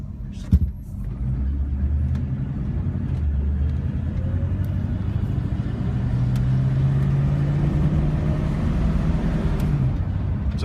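A 1948 Cadillac with old drum brakes cruises through a residential neighborhood, its low, steady engine rumble and road noise continuous throughout, heard from inside the car with a brief thump near the start.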